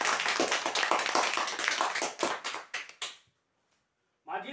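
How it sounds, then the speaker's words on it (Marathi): An audience at a weekly prize draw event bursts into dense, loud applause that lasts about three seconds before dying away, followed by silence and then a voice speaking. "आणि सुरुवात करण्याआधी एकदा जोरदार टाळ्या होऊ द्या आपल्या स्वतःसाठी"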